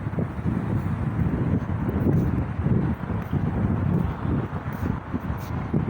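Strong wind buffets a microphone outdoors in a park at night, a continuous low rumbling roar with gusty swells throughout, no voices.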